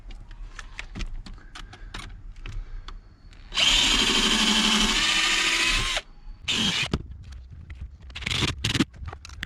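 A power drill drives a screw while hatch struts are installed on a Volkswagen Passat wagon, one loud sustained whirring burst of about two seconds followed by shorter bursts amid clicks and handling noise.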